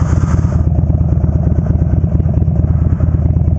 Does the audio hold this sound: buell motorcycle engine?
yes